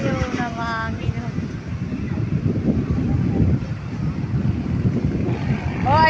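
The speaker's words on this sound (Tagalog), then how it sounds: "nandito tayo na mahangin oh" Heavy wind rumbles and buffets the microphone continuously, with people talking faintly underneath the roar.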